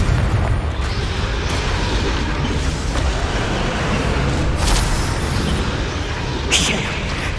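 A Confringo fire spell blasts in the Hogwarts Legacy video game as a dense, rumbling wash of booms and bursts, loud throughout, with brief sharp crackles layered over the continuous roar.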